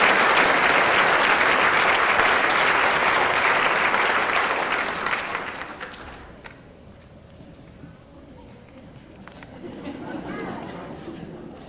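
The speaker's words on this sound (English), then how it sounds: "one more round of applause for our candidates" Audience applause for pageant candidates leaving the stage at a 2010 Dubois quasquicentennial queen pageant, a dense loud roar of clapping for about five seconds that fades out, leaving quiet room noise with faint voices.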